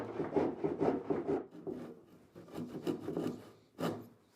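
A handsaw cutting through wood aboard a boat under restoration: rhythmic rasping push-pull strokes, close and fairly loud, in a steady burst that pauses briefly before a few final strokes, with no talking.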